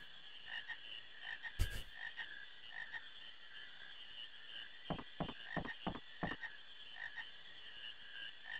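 Frogs croaking in a marsh in the video game Final Fantasy IX, a quick run of sharp, rhythmic croaks mid-clip and one earlier burst over a steady high chorus of insects and ambience.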